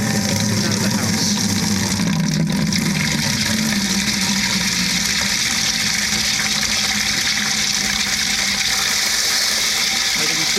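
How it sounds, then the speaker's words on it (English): Water gushing steadily from a sprinkler system pipe near the backflow preventer into a bucket during winterization, a loud, continuous close-up rush and splash with no pauses. "you can just go into a bucket and open that up. Let all the extra water come out of the house."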